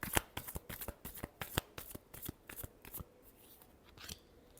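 Tarot cards being shuffled in a quick run of crisp riffling snaps and slaps, close and fairly quiet, thinning toward the end with a few last flicks.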